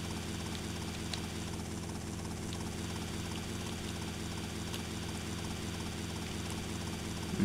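A helicopter in Grand Theft Auto: Vice City hums with a steady, low, continuous rotor and engine drone at moderate distance, unchanging throughout and without any voices over it.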